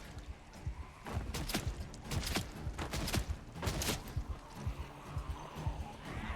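Gunshots in Project Zomboid, a rapid series of sharp cracks about five in quick succession amid game noise, moderately loud against a busy background.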